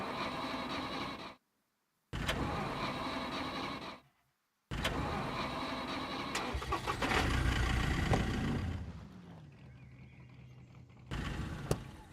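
A car engine in the video game Scum cranking and stuttering in short attempts broken by silence, then catching and running steadily before cutting out and briefly returning.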